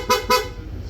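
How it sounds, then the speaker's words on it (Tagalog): Two short, bright toots from an aftermarket dual horn on a Honda ADV160 scooter sound in quick succession, loud and close, then fade into quiet. "PIA auto style horn, dual horn setup, horn selector"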